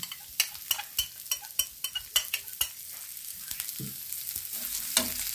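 Onion, garlic and shrimp fry in a pan with turmeric and salt, a steady sizzle broken by repeated sharp scrapes and clinks of a spatula stirring against the metal, close and busy throughout.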